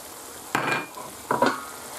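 Paprika tipped into reduced tomato frying in a pan, with two short bursts of sizzle and stirring about a second apart, close and moderately loud over a quiet background.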